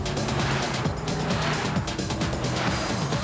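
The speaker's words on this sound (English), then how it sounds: "Yeah, there's that car again." A car passes close by with a loud, dense rush of engine and road noise that stays strong throughout the short moment, with no one talking.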